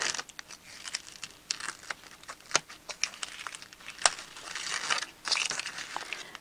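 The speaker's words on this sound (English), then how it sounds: "I'll take the backing papers off the foam tape." Backing papers peeled off foam tape during card making, a close series of quick crinkling, crackling rips and papery rustles in short irregular bursts.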